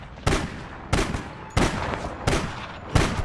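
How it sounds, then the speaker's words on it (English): Bursts of gunfire from the online shooter game APB Reloaded hammer out in five heavy, evenly spaced volleys, loud and close, each with a sharp attack and a short rumbling tail. "I'm being shot at, mate."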